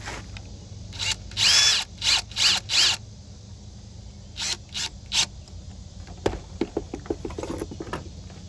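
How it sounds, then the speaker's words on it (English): A cordless drill whirs in several short bursts, close by, driving screws into Lionel O gauge model train cars, followed by lighter clicks and taps as screws seat. "And we do that with our handy dandy cordless electric drill."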